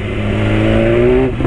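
A BMW S1000 motorcycle engine revs loud and close, its pitch climbing steadily for over a second before dropping off abruptly.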